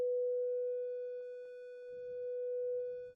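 A steady triangle-wave synthesizer tone holds one pitch with faint overtones, continuous and even, with quiet low rumbles underneath toward the end.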